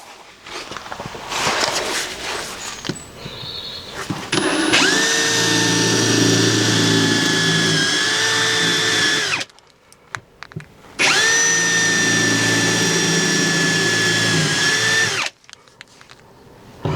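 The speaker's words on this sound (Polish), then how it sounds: "No i wiercę." A power drill bores a hole through a van floor for a Webasto 12 V diesel parking heater, whining loud and close in two sustained runs of several seconds, each cutting off sharply, with a few knocks and handling sounds beforehand.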